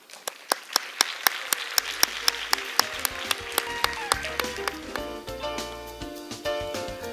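At a youth climate change conference, sharp rhythmic claps ring out over upbeat stage music as an audience welcomes professors and students; the music swells with sustained chords toward the end.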